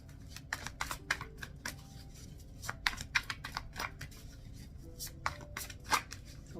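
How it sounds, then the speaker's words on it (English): Tarot cards being shuffled by hand produce a quick run of soft, crisp riffles and taps, faint and close, with irregular bursts and no speech. "Let me shuffle."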